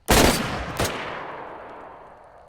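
A single sharp crack of a ceremonial rifle volley fired on command, loud and close, with a second report just after and a long echoing decay fading into open air.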